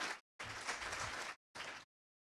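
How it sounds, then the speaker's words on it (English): Audience applause at a generative AI hackathon, heard in short choppy bursts of clapping separated by abrupt silences, fairly quiet overall. "So just give them a round of applause."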